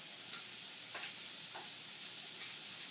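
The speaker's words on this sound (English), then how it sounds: "We're going to hear that sizzle" Steady hissing sizzle of chicken frying in a hot pan, with a few faint clinks and stirring scrapes over the constant crackle.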